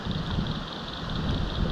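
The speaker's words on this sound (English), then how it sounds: "It's super windy." Strong wind blowing outdoors at a fishing spot, a steady rushing roar buffeting the microphone without letup, close and fairly loud, with no talk.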